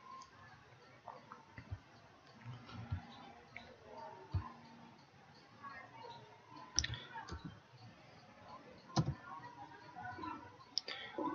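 Keys on a computer keyboard are tapped in scattered, quiet clicks and short bursts, some louder strikes standing out against a faint background.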